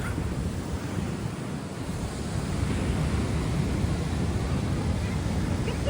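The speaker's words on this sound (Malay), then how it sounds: "Besar ombak dia." Big ocean waves crash continuously along a Terengganu shore during flood season, a loud, steady wash of surf with heavy wind rumble across the microphone.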